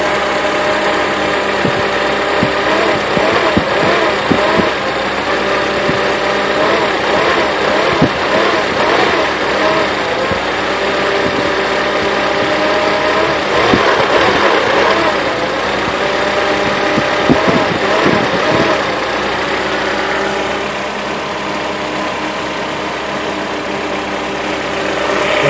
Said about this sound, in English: Okay, I'm still idling.